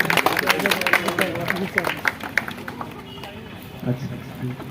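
Scattered clapping from a small group at a police station farewell and honour ceremony, close and fairly loud at first, then thinning out, with voices talking over it.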